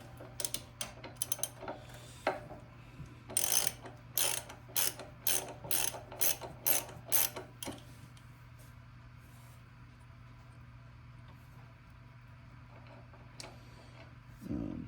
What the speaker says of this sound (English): we're going to use a 19 millimeter socket to remove this cap here that is on top